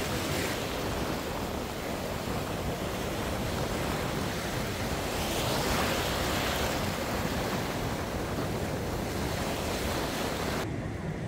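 Sea waves roll in at a Recife beach on a rising tide, making a continuous, loud wash of surf mixed with wind buffeting the microphone, with no voices.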